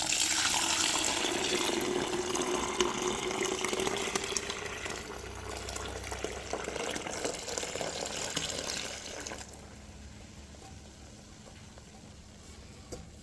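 Water pouring steadily into a container while Jamaican sorrel drink is prepared, a loud continuous splashing rush that gradually weakens and thins, then drops to a quieter trickle near the end.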